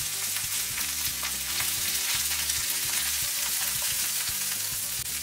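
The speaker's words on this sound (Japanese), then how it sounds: "テフロンの鍋にサラダ油を入れ、温度が上がったら卵を入れ、白身に半分火が通ったら温かいご飯を入れて" Egg and warm rice sizzle and crackle in salad oil in a hot nonstick pan on a home stove, a steady loud frying hiss with scraping from a spatula and wooden paddle throughout.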